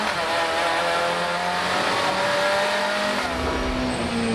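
Race cars lapping the Assen circuit in a Supercar Challenge round, including the Speedtech Silhouette: loud, continuous high-revving engine roar with shifting tones as cars pass, intense throughout.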